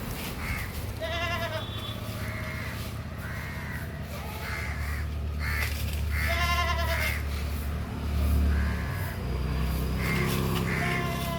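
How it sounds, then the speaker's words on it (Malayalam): Hornless crossbred goats on a farm bleat in several drawn-out, nasal calls spaced through the clip over a low background rumble. "എന്താ ഒരു കൊമ്പില്ലാത്ത ആട്."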